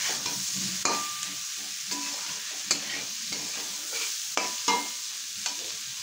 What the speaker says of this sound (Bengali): ডিমটা দিয়ে মশলার সঙ্গে একটু ভালো করে এইভাবে একটু মিশিয়ে নেব।